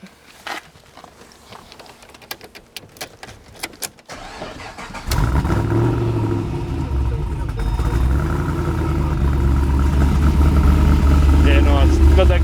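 A 2008 car with a 6-litre engine and 6-speed manual, starting up after some clicks and handling noise, then settling into a loud deep rumbling idle that builds slightly, with people talking.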